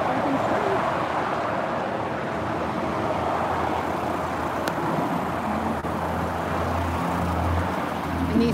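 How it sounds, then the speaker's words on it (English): Road traffic on a busy street, a steady wash of passing vehicles with low engine rumble throughout and a faint high ping midway, moderately loud and continuous. "you can see there was the traffic"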